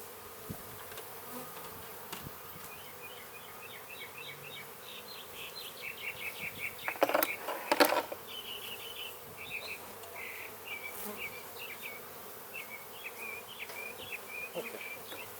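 Honey bees buzz steadily at an open Rose Piedmont beehive, a soft, close drone with faint high chirps, and a louder rustling handling noise briefly rises midway.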